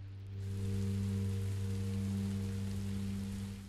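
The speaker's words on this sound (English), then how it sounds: "And it starts to rain." Rain starting in Minecraft: Story Mode, a steady hiss of falling rain that swells in and holds evenly over a low, constant hum.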